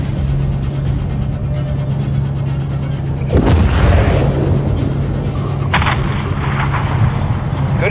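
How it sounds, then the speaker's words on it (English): A missile strike levels a hangar in the Call of Duty Modern Warfare 3 campaign, a sudden heavy boom and rumbling blast erupting midway over a steady low hum of battle ambience. "have your man drop a missile on that hangar"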